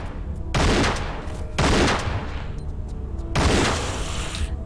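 Gunfire aimed at a harpy in a Tomb Raider level game: three loud, sustained bursts of shots, each lasting about a second, separated by short pauses, with a steady background drone between them.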